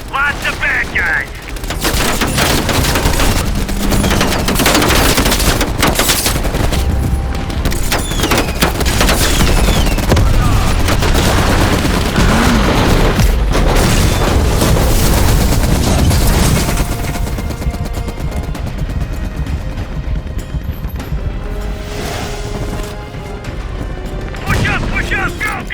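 Dense, loud Call of Duty Cold War combat: sustained machine-gun bursts and rapid rifle fire with booming explosions and crashes, nearly continuous for most of the stretch before easing into quieter, scattered shots near the end.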